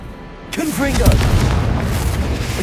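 A fiery Confringo spell explosion in Hogwarts Legacy bursts into a sustained roaring boom, rumbling loudly for a couple of seconds while a voice speaks over the start.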